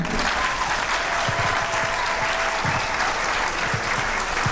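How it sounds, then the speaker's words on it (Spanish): Sustained, loud crowd applause fills a hall at a Catholic Cursillo de Cristiandad Ultreya gathering, greeting a future cursillo participant; dense steady clapping runs throughout with a faint hum underneath. "A nuestro futuro cursillito un fuerte aplauso"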